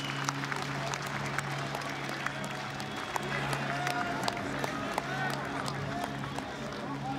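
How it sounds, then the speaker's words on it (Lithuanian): Arena crowd at a UTMA 11 mixed martial arts event applauding as fighter Jimmy Livinus Omani leaves after the bout; steady clapping and crowd noise throughout, with a commentator talking over it. "Aplodismentais išleidimas Jimmy Levinijus"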